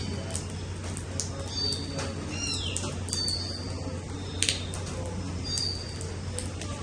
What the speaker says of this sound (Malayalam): ആ കേൾക്കുന്ന സൗണ്ട് ഏതോ ഒരു കിളിയുടെ, എനിക്ക് തോന്നുന്നു വേഴാമ്പലിന്റെ ആണെന്ന്